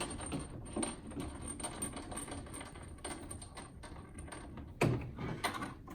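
TruBlu hose fitting being attached and snugged tight, with clustered metallic clicks, ratcheting ticks and rattles up close, including a sharper knock toward the end, over low background noise.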